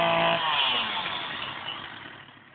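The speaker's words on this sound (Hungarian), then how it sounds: "Azt is elvágják láncfűrészre" A chainsaw cutting into a tree whines at high revs close by, then gradually fades and trails off over a couple of seconds.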